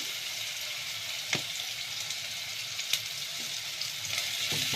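Onion frying in oil in a cooking pot, a steady, close, loud sizzle that holds throughout with a few brief pops and clinks.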